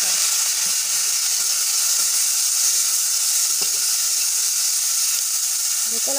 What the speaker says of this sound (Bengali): কলার খোসাটা একটু সেদ্ধ করে পানিটা ঝরিয়ে নিয়েছি, এখন ভালো করে ভেজে নেব।